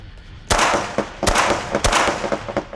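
Pistol gunshots at a shooting practice drill, three or four sharp, loud cracks spaced unevenly over a couple of seconds, each with a short ringing tail outdoors.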